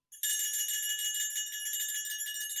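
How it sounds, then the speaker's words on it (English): A bell jangles suddenly and keeps ringing bright and metallic as it is tossed across a room, a loud continuous shimmer of high tones with no voices. "Joyce just threw the bell across the room."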